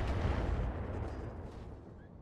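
Turrets open fire in the BattleTech mod RogueTech, a dense, loud rumbling barrage of booming artillery-like blasts that rolls on continuously and eases off slightly toward the end.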